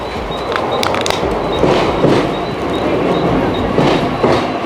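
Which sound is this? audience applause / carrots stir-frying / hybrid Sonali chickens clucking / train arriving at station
train arriving at station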